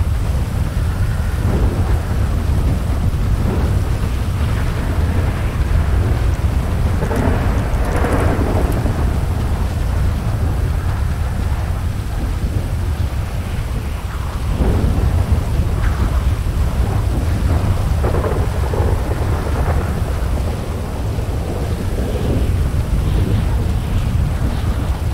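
Steady rain pours in a FiveM zombie survival roleplay game world, with rumbles of thunder and gusts of wind rolling through the dense, continuous downpour for the whole stretch.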